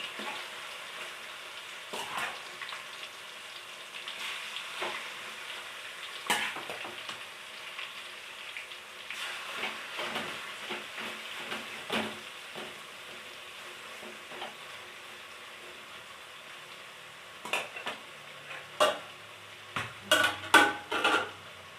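Chicken pieces fry in oil in a pan with a low, steady sizzle, broken by scrapes and clinks of a utensil stirring, which grow louder and busier toward the end.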